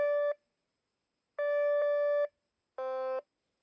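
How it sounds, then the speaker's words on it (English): A metal detector emits three steady electronic tones with no target on the ground: two long beeps and a shorter, lower-pitched one, each separated by a pause. "Even though there is nothing on the ground, it continuously gives a signal."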